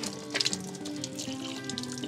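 Water trickles and drips steadily through a homemade sand filter, a faint, continuous splashing with a few brighter droplet plinks near the start.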